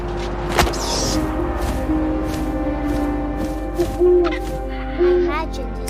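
An owl hoots in the video game What Remains of Edith Finch, a few soft calls set against a steady game ambience with wind and a low hum, with brief rustling touches throughout.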